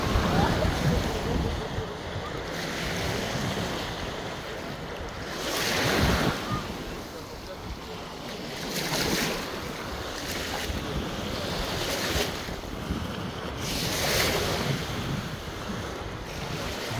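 Sea waves wash in on Cala Rossa beach in Corsica, a steady broadband surf with louder breaking swells near 6, 10 and 14 seconds and some wind buffeting the microphone.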